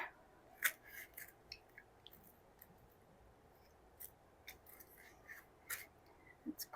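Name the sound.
scissors cutting, solar panel install on camper van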